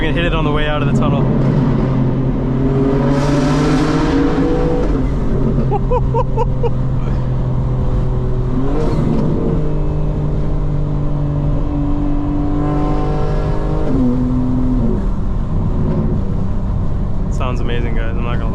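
A 2025 BMW M4 Competition xDrive engine revving while driving through a tunnel, loud and close with rising and falling revs and gear changes throughout, and someone talking over it.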